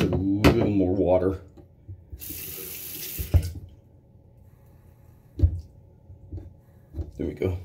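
Tap water runs into a sink while someone shaves, a hissing stream for about a second amid splashes, drips and handling sounds, with a voice speaking briefly near the start.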